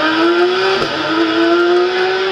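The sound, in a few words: rally car engine revving during special stage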